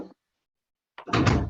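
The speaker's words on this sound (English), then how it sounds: "I got to close the door now" A door being closed in a room, a short sliding rush and then a solid thud and rattle, preceded by a brief sound and a moment of silence, with no talking.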